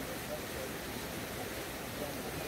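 Continuous broadband rush of flowing water, like a waterfall or river, steady and fairly quiet, playing alone without talk during a riverside tai chi session.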